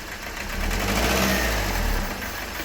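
A Renault Megane 3 1.5 dCi diesel engine revs up steadily from idle, holding a loud mid-range roar before easing back slightly, with no voices.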